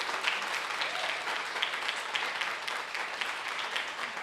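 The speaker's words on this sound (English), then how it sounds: "Keep clapping." A conference audience applauds steadily after being asked to stand, a dense, even wash of clapping that continues throughout at moderate loudness with no voices on top.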